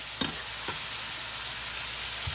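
Vegetables fry in butter and olive oil on a griddle, a steady close sizzle with a couple of sharp knocks from a utensil against the metal.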